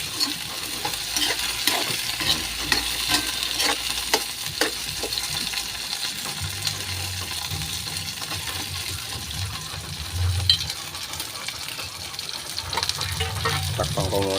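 Okra being sautéed in a pan for a Filipino ginisa with canned sardines, steady sizzling and frying with scattered clinks of a utensil against the pan and a louder spatter of stirring partway through.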